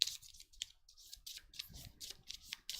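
Cards from the Disney Villainous board game are shuffled, with quick, crisp riffling and flicking bursts close by and a soft tabletop rustle between them.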